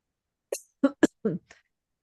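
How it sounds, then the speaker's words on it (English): A short series of dry, separate coughs, about four or five quick bursts, close by, with silence between them. "Not sure why I'm coughing today"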